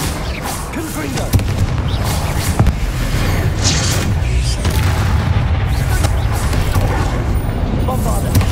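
Confringo fire spell blasts in the Hogwarts Legacy video game, loud repeated booms and crackling bursts over a continuous roaring combat rumble.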